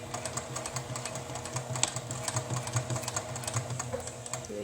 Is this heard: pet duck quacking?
no